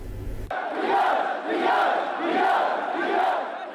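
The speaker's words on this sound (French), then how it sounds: "une foule compacte s'est massée bien avant l'heure prévue, en brandissant le drapeau tunisien et en clamant des slogans pour défendre la Constitution de 2014" A dense crowd of protesters in Tunis, in front of the municipal theatre, waving Tunisian flags and chanting slogans in defence of the 2014 Constitution: a loud, steady roar of many voices with rhythmic swells, heard after a brief cut-in.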